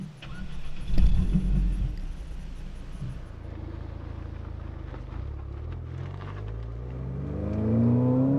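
Ford Fiesta ST turbocharged engine revving hard, a loud low drone with rising harmonics that climbs toward redline near the end, heard from close by with no talk over it.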